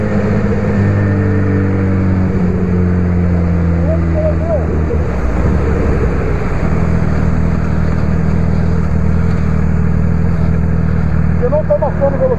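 A Kawasaki Ninja 250cc motorcycle running flat out near 170 km/h on a road ride, its engine holding a loud steady drone under heavy wind rush, with voices talking over it.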